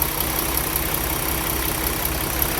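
A truck engine idles steadily with a blown head gasket, bad EGR cooler and faulty air compressor, an even, continuous mechanical drone with a faint knock, close and unbroken with no talk.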